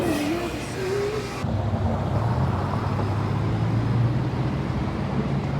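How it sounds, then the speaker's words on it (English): Road traffic rumbling in the background near Big Bear Lake, a steady low vehicle drone with passing engine swells, fairly loud and continuous throughout, with no talk over it. "There is traffic in the background"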